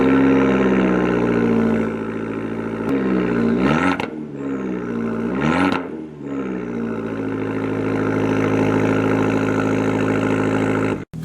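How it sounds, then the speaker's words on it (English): Steady, loud idle of a 2015 Fiat 500 Abarth's exhaust with a deep rumbling drone, broken by two brief throttle blips that rise and fall around the middle, heard close with no talking. "The exhaust makes a lot of noise."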